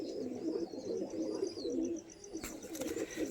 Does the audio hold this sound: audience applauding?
no